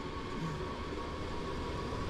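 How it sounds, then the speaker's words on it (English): A diesel electric train approaching in Train Sim World 2 gives a low, steady rail rumble with faint tonal hums, fairly quiet and continuous, with no voices over it. "I just said the local diesel electric unit coming up."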